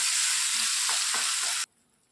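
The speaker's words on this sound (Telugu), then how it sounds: "మసాలాను బాగా ఫ్రై చేసుకోవాలి." Masala gravy of ground paste and curry leaves frying in a pan for egg curry, a steady loud sizzle with a few stirring scrapes, cutting off abruptly partway through.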